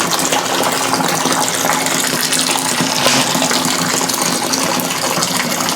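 Hot water gushes steadily into a homebrew vessel while brewing a nut brown ale, a continuous broadband pour with no pauses, close and fairly loud throughout.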